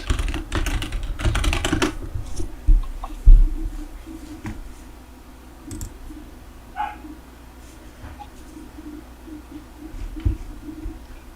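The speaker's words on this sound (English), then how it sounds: "in that search bar, go ahead and type in enrollment." Quick bursts of keyboard typing into a search bar open the sound, followed by scattered faint clicks and distant dog barks in a quiet room.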